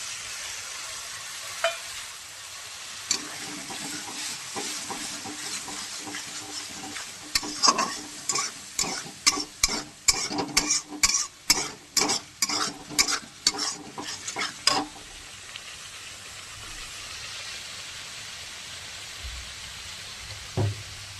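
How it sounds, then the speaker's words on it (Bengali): Dissolved spice paste is tipped into softened tomatoes frying in a pan and stirred, a steady sizzle broken by a run of rhythmic scraping strokes in the middle before settling back to a quieter hiss. "এবার আমি গুলে রাখা মশলাটা এর মধ্যে দিয়ে দেবো।"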